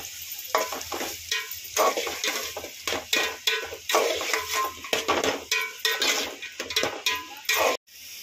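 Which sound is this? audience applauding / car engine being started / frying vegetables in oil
frying vegetables in oil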